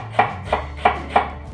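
A sharp knife chops an onion finely on a cutting board, giving four crisp, evenly spaced strikes close up with nothing else heard.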